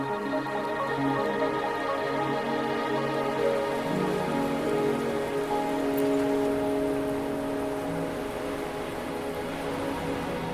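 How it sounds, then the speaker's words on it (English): Steady rain falls in the video game Wuthering Waves, a continuous close hiss of drops on surfaces under a low tonal game soundscape, with no talking. "Are you trapped here by the rain?"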